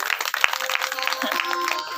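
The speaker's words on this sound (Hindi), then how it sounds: "उनके लिए भी जोरदार तालियां।" An audience claps heartily at a Shiv Mahapuran katha, a dense, continuous patter of applause with a faint tonal musical drone underneath, steady throughout.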